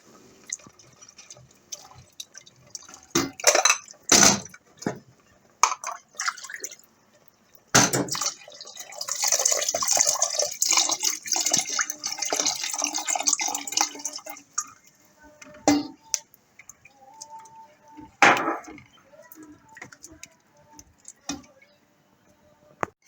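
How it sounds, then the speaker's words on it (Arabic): Milk is poured into a pot of cooked rice for rice pudding, a steady liquid pour lasting several seconds among scattered drips, clinks and kitchen handling sounds. "نبتدي بقى ننزل بالحليب."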